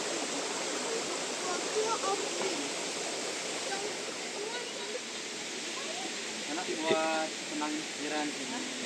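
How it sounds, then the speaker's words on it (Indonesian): A river rushes steadily in a constant broadband wash at a camping ground in Bogor, with voices and faint calls faintly audible over the flowing water. "Dengerin aliran sungai."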